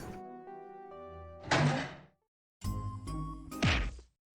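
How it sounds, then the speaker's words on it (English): Punch sound effects from the visual novel game Chaos;Child: a couple of heavy thumping impacts with rustling whooshes, separated by silences, over soft game music. "More punch sound effect."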